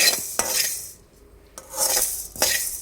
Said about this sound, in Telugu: మెంతులు జీలకర్ర ధనియాలు ఇలా వేపుకోవాలి ఇట్లా బ్రౌన్ కలర్లో వచ్చేంత వరకు అయితే వేపుకోవాలి